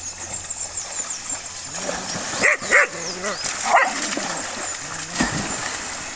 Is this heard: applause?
no